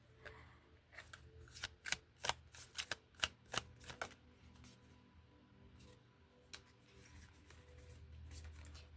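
Tarot cards shuffled by hand in a quiet room, a quick run of crisp riffling flutters in the first few seconds followed by a few softer card taps, close and clear with no talking.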